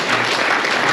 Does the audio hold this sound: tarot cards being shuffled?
no